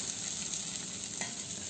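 Night jasmine flowers frying with onions in a wok, giving a steady, soft, close sizzle with faint stirring and no voices.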